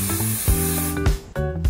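Matte spray from an aerosol can hissing onto a mirror-polished, highly reflective dragon pendant to prepare it for 3D scanning; several short, close bursts of broadband hiss with brief gaps between them.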